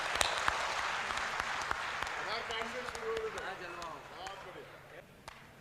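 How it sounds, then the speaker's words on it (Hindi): Audience applause and clapping at a Hindi comedy kavi sammelan, welcoming poet Munna Battery; a steady mass of claps fills the hall while a voice talks over it and the clapping slowly thins out. "भाई मुन्ना बैटरी के लिए जोरदार तालियों से स्वागत करें।"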